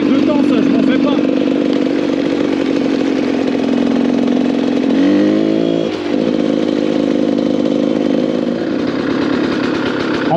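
GasGas 300 two-stroke enduro motorcycle engine running near its idle, a loud steady buzzing drone with a brief rise and dip in pitch midway.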